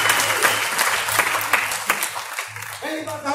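An audience at an achievers' day event in Varanasi breaks into enthusiastic applause, dense clapping that fills the room, while a voice talks briefly underneath it.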